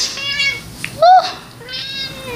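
An elderly cat, nearly 28 years old, meows loudly several times in quick succession, with wavering drawn-out cries close by and no talking.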